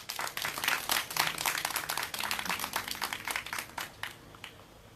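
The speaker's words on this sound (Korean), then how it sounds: "우리 도안장님께 다시 한 번 더 진짜로 큰 박수 한번 부탁드리겠습니다" Audience clapping at an outdoor candlelight rally in Seongju, a dense spread of many hands that stays steady for most of the stretch and then thins out near the end.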